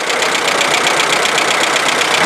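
A Fiat car engine idling, running lean at idle, giving a loud, steady, close-up mechanical hum with a faint rhythmic pulse throughout.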